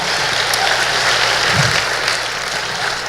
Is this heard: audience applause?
yes